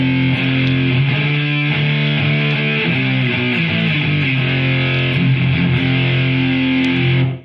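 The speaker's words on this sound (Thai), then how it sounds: "เสียงมันแตกโหดดีมากเลยนะฮะ" A heavily distorted electric guitar plays sustained, crunchy chords, with the distortion coming from the amp rather than an effects pedal, loud and continuous before cutting off at the end.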